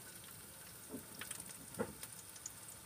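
Scrambled eggs fry in a pan with a low, steady sizzle, broken by a few soft scraping stirs near the end, with no one talking.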